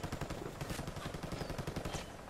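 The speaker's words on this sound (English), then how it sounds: "we have gunfire coming in from the rear" Rapid automatic gunfire rattles in dense, continuous bursts during a Ghost Recon Wildlands firefight, heard fairly faintly throughout with no talking.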